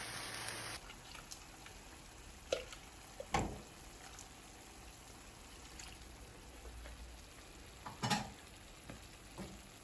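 Chipotle sauce and broth simmer with softened onion in a pan, a faint quiet bubbling hiss broken by a few sharp spoon clinks and stirring knocks.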